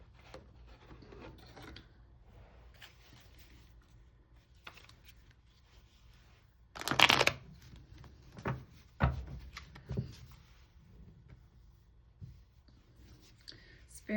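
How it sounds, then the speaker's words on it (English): A deck of tarot cards is handled and shuffled in a quiet room, with soft rubbing and papery rustling that builds into a louder burst of riffling and a few sharp clicks near the middle. Faint whispery sounds fill the gaps. "let's go ahead and we'll pull a few tarot cards"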